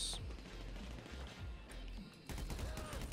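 Rapid gunfire bursts in GTA V, a dense crackling volley at the start that eases into scattered shots, then swells again near the end, mid-distance and fairly loud against a steady rumble.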